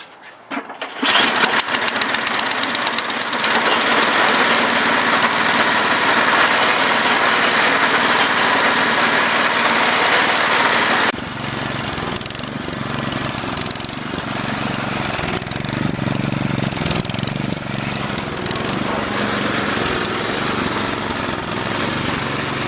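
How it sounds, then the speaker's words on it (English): A small engine with choke on and a little throttle fires up after a valve adjustment, then roars loudly and steadily at close range, settling into a lower, rougher running note about halfway through, with no talk over it. "let's go ahead and try and fire this sucker up and see what happens"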